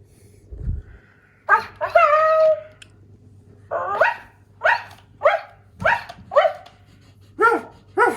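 A Present Pets toy puppy lets out a string of short electronic barks, several yips in uneven bursts with brief gaps, close and fairly loud, with a low background hum and no talking.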